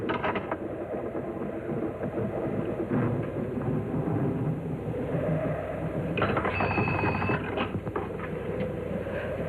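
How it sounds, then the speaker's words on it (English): Thunder rumbles low and continuous as a storm breaks, a steady rolling roar on an old 1957 television soundtrack, with a brief brighter tone partway through and no one speaking. "hurry home before this storm breaks"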